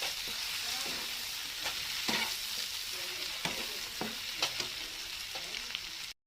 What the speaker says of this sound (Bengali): আর একটু ভাজা করবো হয়ে যাবে